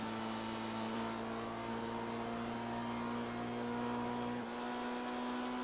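A Dinka Jester RR sports car engine in GTA Online drones at a steady, fairly high pitch. The tone shifts once partway through, as if changing gear, and the sound continues alone without talk.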